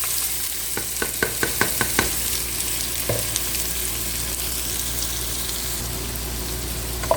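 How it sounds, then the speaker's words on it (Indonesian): Onions sizzle steadily in hot oil, sautéing for Arabian mandi rice, with a quick series of sharp clacks from stirring near the start and a few more taps later. "Biarkan ditumis sampai warna kekuningan emas ya teman-teman"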